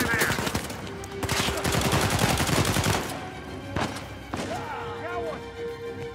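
Dense, rapid enemy gunfire in Uncharted 4: A Thief's End rattles for about three seconds, followed by a few isolated heavy shots, with a voice heard amid the shooting.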